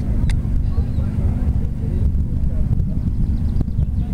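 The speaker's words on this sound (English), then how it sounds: "just some military vehicles on this great event in Zundert" Engines of military trucks, GMC and Dodge WC62, at an outdoor military vehicle event in Zundert, Netherlands, a loud continuous low rumble close by with voices talking over it.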